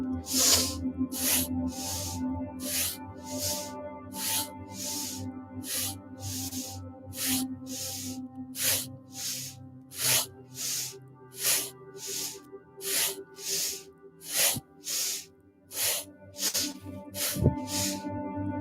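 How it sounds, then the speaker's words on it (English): Rhythmic sharp sniffing breaths in a Kundalini yoga breathing exercise, a steady run of short nasal inhales and exhales repeated over and over at an even pace, close and clear with a soft musical drone underneath. "Sniff in, sniff out."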